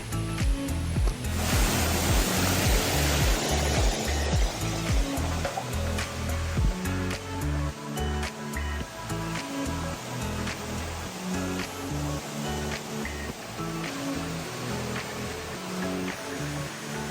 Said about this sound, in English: There's some waterfalls.